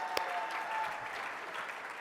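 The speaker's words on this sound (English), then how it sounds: "Give me a round of applause." Steady audience applause for charter officers at a city address event, a continuous wash of clapping from a crowd, fairly loud and unbroken throughout.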